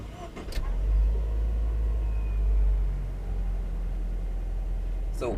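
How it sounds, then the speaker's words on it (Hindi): A DFSK Glory 580 Pro 2022 SUV engine starts and settles into a steady, loud low rumble at idle, with brief clicks at the start and end. "ये इस गाड़ी का स्टार्टअप।"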